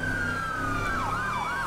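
A police siren in the game FivePD wails steadily over a dense wash of traffic noise, its pitch sweeping up and down in quick cycles.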